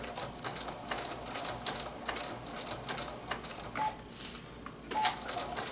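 A sewing machine runs in short, uneven stitching bursts during free-motion quilting of an autumn table topper, the motor faint and close with small clicks and brief pauses between runs.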